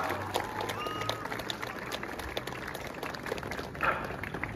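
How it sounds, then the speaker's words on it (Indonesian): Scattered, moderate applause from a gathering of students at a Monday flag ceremony at SMK Negeri 1 Mempawah, somewhat distant and uneven, with a few faint voices and tones mixed in. "tepuk tangan untuk SMK Negeri 1 Mempawah"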